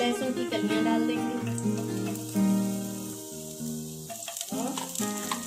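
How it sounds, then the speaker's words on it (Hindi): Garlic cloves frying in hot oil with cumin powder, a steady loud sizzle with stirring, alone without talk. "अब इसमें हम लहसुन की कलियां डाल देंगे"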